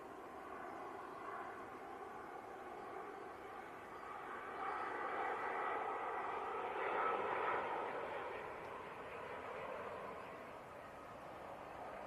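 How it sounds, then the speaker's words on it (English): Airliner touching down at Manchester Airport, a faint distant engine rumble that swells gradually in the middle and then eases off again. "Very nice touchdown there."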